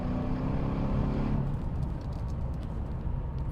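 A Mercedes CLS500 with a custom exhaust kit and 7-speed gearbox is driven hard: a loud, close engine roar that drops off after about a second and a half into a steady driving rumble.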